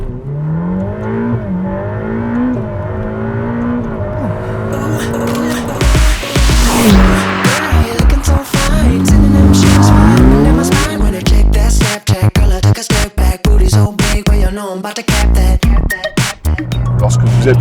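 A Ferrari F8 Spider accelerating hard, then braking: loud rising engine revs with gear shifts, then a burst of tire noise and roar, close and intense.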